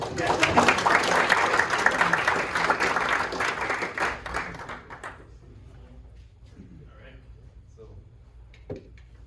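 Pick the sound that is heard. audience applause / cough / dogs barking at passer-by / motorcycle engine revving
audience applause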